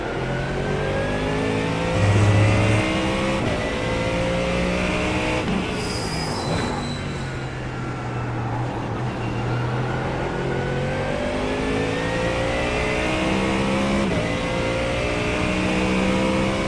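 GT3 race cars in a sim racing game at Daytona, a steady loud roar of engines howling and shifting continuously with other cars droning around, no talking.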